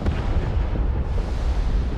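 Missiles striking ships in a naval warfare video game set around a 1944 Pacific battle, a continuous roar of overlapping, echoing explosions with no pause, loud and heavy throughout.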